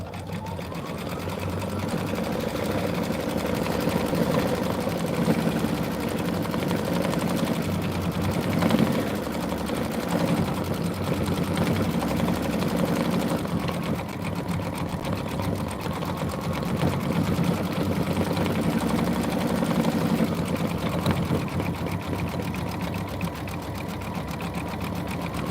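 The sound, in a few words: sewing machine satin stitching embroidery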